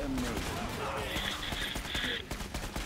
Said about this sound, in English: I'm just like shooting casually at him.